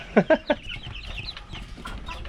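Chickens cluck close by, three sharp clucks in quick succession at the start, then softer scattered clucking and chirps from a small flock.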